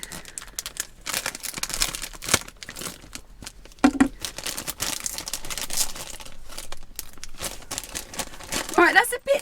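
A plastic bag is handled and crinkled up close in irregular bursts of rustling and crackling, and a person talks over part of it.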